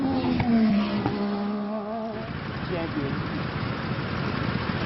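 Go-kart engines on a karting track whine and rev near the start, their pitch sliding downward, then fade into a rougher mixed background with some voices.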